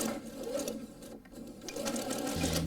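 A sewing machine stitches a seam with a half-presser-foot seam allowance, running steadily and fairly close for the whole stretch with a brief dip midway.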